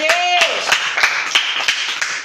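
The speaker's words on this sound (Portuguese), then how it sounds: "Vamos aplaudir o Senhor?" Church congregation at a live in-person service clapping in praise, a rhythmic beat of sharp claps at a steady pulse with a voice sustaining a tone over it.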